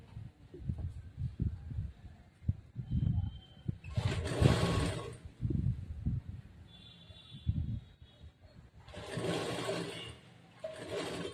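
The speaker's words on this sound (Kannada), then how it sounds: "ಫ್ರಿಲ್ಸ್ ಎಲ್ಲ ಕೆಳಗಡೆ ನೀಟಾಗಿ ಜೋಡಿಸ್ಕೊಂಡು ಬಟ್ಟೆ ನೀಟಾಗಿ ಜೋಡಿಸ್ಕೊಂಡು ಆಮೇಲೆ ಫ್ರಿಲ್ಸ್ ಸ್ಟಿಚ್ ಮಾಡಬೇಕು" A sewing machine stitching frills onto a petticoat runs in two loud bursts of rapid whirring, while a person talks between and under the runs.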